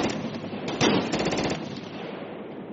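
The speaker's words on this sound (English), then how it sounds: "shoot at the chopper, shoot at the chopper" Rapid automatic gunfire aimed at a helicopter in Project Reality, a dense, loud burst of shots running continuously for a couple of seconds before trailing off into echo.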